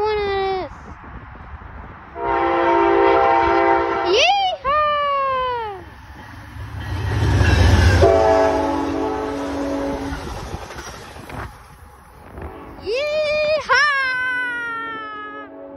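Amtrak passenger train passing through Richland Hills, with rumbling rail noise swelling in the middle, while excited shrieking and shouting voices are heard over it.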